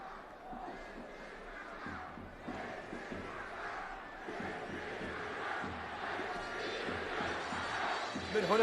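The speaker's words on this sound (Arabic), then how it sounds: "من هناك الجماهير التي تؤازر وتستمر في هذه المرحلة" Football stadium crowd at a league match in Duhok, Iraq, chanting and cheering as one steady roar, with a match commentator talking over it throughout.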